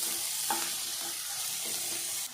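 Ridge gourd, onion, green chili and garlic sautéing in oil, a continuous bright sizzle with a few soft spatula stirs, close and steady.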